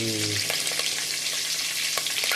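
Green chillies and whole spices hit hot oil in a pan for gongura pulao, a constant close sizzle and crackle with small bursts of spitting, following a brief hum at the start.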